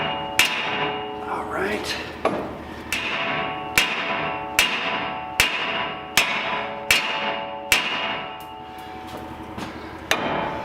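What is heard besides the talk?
sledgehammer hitting a truck ball joint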